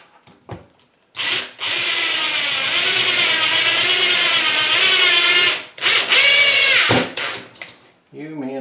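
A power drill drives screws into a basement bathroom floor in two long whirring bursts, the first lasting several seconds and the second shorter, close and loud with brief pauses between them.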